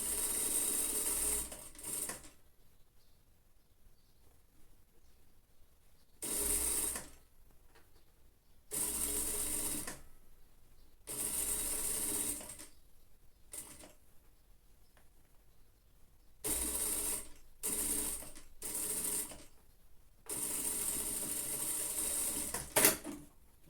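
A sewing machine stitches a sleeve onto a lined child's jacket in repeated bursts of rapid whirring, each a few seconds long, separated by quiet pauses, close and fairly loud.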